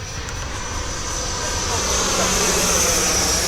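An E-flite F-16 80mm electric ducted-fan RC jet whines through the sky in flight, its high whooshing drone swelling louder as it closes in, with a voice talking over it.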